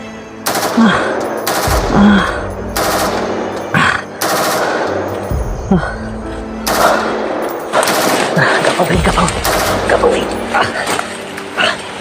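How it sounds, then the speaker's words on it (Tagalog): Heavy gunfire at a guarded location held by armed men, with repeated bursts and rapid shots cracking close and loud over about twelve seconds, while people shout and talk throughout and a dog barks now and then. "Daming putok."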